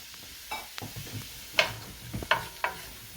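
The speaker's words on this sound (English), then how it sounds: "I'm going to go ahead and add in my onions." Onions go into a pan that is not too hot for chili con carne, with a soft sizzle and several crisp clicks and taps of the pan and spoon, close by.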